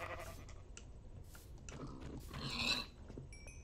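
Sheep bleating in the Minecraft video game, a few short nasal calls scattered across the clip at moderate level, with one louder, brighter bleat near the end, alongside other soft game sounds.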